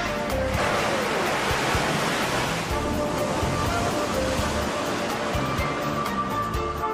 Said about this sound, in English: The water goes into the chambers and then it pushes out through the gravity, and that's what makes the wave.